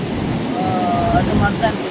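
Ocean surf rolls in at a beach in Nellore, a loud, continuous wash of waves roughened by wind buffeting the microphone, with a faint voice now and then.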